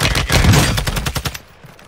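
Rapid gunfire in the video game Warzone, a burst of loud close shots in quick succession lasting about a second and a half before cutting off.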